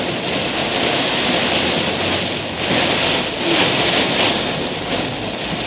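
Heavy storm rain pours steadily in Orlando, Florida amid strong winds, a dense loud roar with surging gusts and no talk.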